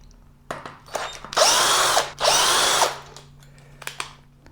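A power drill backs bolts out of an electric scooter near its battery pack, with two sustained whirring bursts of about a second each framed by short clicks and handling noises, fairly close and otherwise quiet.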